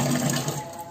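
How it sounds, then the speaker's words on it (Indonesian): Tap water gushing through a newly attached washing machine hose, a steady close rushing hiss that runs without a break and fades slightly toward the end. "Ini sudah terhubung, kita coba ya. Oke, air sudah keluar"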